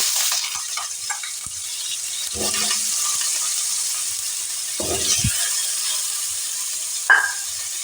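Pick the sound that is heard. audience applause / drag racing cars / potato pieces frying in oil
potato pieces frying in oil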